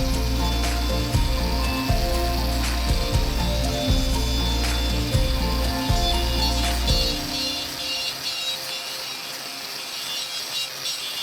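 A wheel's edge, pressed lightly, grinds a grained finish into a motorcycle swingarm on a '92 RM125: a continuous loud abrasive whir with rhythmic low thumps, then the heavy low drone drops away and a lighter, thinner grinding continues.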